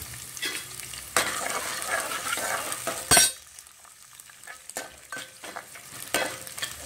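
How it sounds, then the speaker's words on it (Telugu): Onions frying in hot oil for a country chicken curry, a steady broadband sizzle with clinks of a utensil stirring and scraping the pan, and one sharp loud burst partway through. "కొంచెం నూనె వేడైంది అనుకుంటే ఆనియన్స్ వేసి ఫ్రై చేసుకుంటే సరిపోతుంది"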